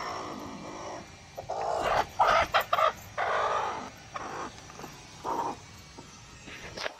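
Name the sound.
hen clucking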